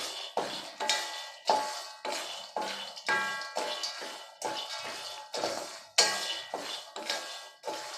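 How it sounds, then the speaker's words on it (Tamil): Two cups of peanuts dry roasting in a pan, stirred with quick, rhythmic scraping strokes that rattle the nuts against the metal about twice a second, close and steady with no talking. "இப்போ நான் 2 கப்ஸ் ஆஃப் பீனட்ஸை வந்து ட்ரை ரோஸ்ட் பண்ணிக்கிட்டு இருக்கேன்."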